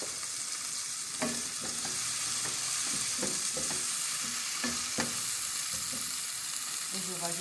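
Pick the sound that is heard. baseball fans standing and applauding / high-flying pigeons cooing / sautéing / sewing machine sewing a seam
sautéing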